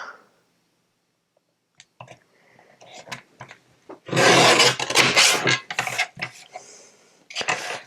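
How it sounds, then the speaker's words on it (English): Recycled Christmas card base being trimmed on a paper cutter, faint taps and rustles followed by a loud rasping slide of the blade across card, then shorter scraping passes. "I'm going to cut this card base just a little smaller than this"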